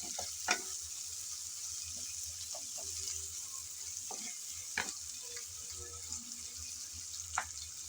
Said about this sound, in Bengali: নেড়ে চেড়ে হালকা ব্রাউন কালার করে পেঁয়াজ ভেজে নেব।